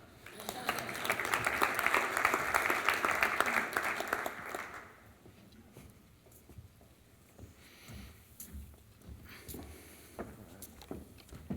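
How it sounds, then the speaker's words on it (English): Audience at a brewing industry session applauds panel guests coming onstage, a burst of clapping lasting about five seconds, then fading into quiet room noise with faint movement and voices. "It's okay to applaud."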